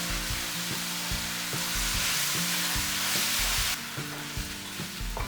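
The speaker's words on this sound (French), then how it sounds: "rajoutez les nouilles et mélangez délicatement pendant une bonne minute" Noodles with vegetables are stirred in a hot frying pan, making a loud, continuous sizzle with repeated scraping and clacking strokes of a utensil against the pan throughout, with no voices.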